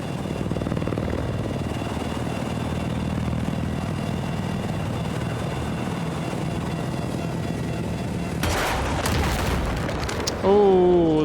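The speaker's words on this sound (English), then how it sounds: "I'm watching a nice little chopper battle right now." Helicopters fight in a Battlefield 4 multiplayer match, a steady rotor drone running throughout with muffled booms and sharp bursts of weapon fire near the end.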